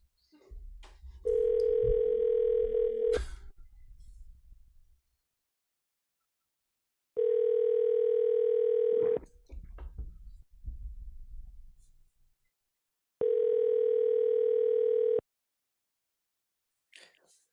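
A telephone ringback tone sounds while a call is placed, three evenly spaced long tones with silent gaps, and some muffled handling noise between them.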